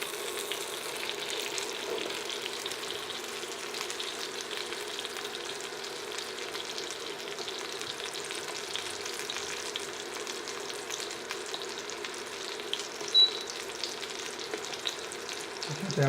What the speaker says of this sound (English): Baste it with that butter.